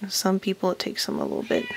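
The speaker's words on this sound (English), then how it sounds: "pardon my cat, she's in the background talking because she wants in here" A house cat meows repeatedly in the background while a person talks steadily over it, the calls fairly close and rising and falling between spoken phrases.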